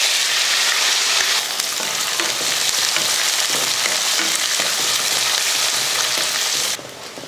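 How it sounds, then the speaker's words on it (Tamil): Onions frying in hot oil with garlic, popped mustard seeds and curry leaves, a loud dense continuous sizzle with faint stirring underneath, close, easing slightly near the end, no talking. "வெங்காயம் நல்லா வதங்கிடுச்சு."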